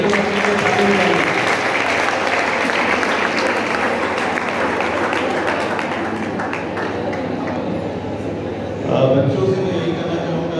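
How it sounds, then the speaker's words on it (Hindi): An audience at a school education speech event in Lucknow claps in sustained, dense applause at a steady loud level, with a brief swell near the end and a voice faintly under it. "आप सभी लोग अपने को ताली बजाइए"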